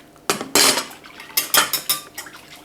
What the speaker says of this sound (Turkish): Şöyle bir karıştıracağım çırpıcıyla.